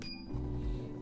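A steady mechanical hum with a low motor drone that steps up in pitch partway through, running continuously without pauses, from an embroidery machine stitching a trace outline on a laptop bag.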